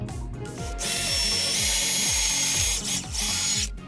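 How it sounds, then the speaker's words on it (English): A power drill whirs in repeated short bursts, its motor pitch dropping as it drives screws into wood while building a backyard fence, close and loud with brief pauses between runs. "Pre-drill and screw."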